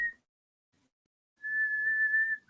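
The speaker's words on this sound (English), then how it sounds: "I heard you over Discord whistling." A person whistles over a Discord voice call: a short steady tone, then a pause, then a longer sustained note, thin and clear against near silence.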